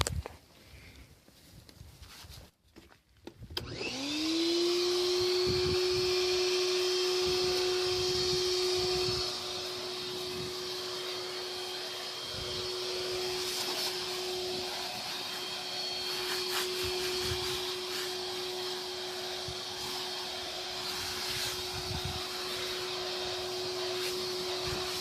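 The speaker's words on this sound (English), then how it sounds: "is use the vacuum again" A vacuum cleaner starts up after some brief rustling and runs continuously while cleaning grass off a surface, a loud steady whine with a strong tonal hum that dips slightly in level partway through and then keeps going.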